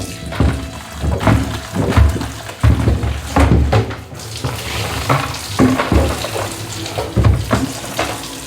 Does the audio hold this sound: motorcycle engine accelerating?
no